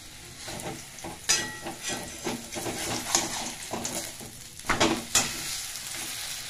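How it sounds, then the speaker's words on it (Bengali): Fish paratha frying in butter in a pan, a soft steady sizzle with intermittent stirring and scraping clatters, close and moderately quiet, with no talking. "দেখো দেখো এটাকে ভালো করে ভাজতে হবে।"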